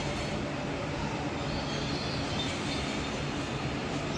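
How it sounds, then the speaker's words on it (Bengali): A metro train moving through Kavi Subhash (New Garia) station on Kolkata's Blue Line, a loud, steady broadband rumble with no gaps, close and continuous throughout. "এই ট্রেনটা এখানে এসে আপের ট্রেন লাইন চেঞ্জ করে আবার ডাউনের দিকে যাবে"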